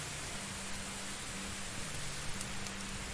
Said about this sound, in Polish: Strasznie głośno chyba ten deszcz pada